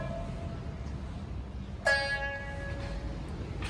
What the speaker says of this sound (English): that is the sound of the steel past the bone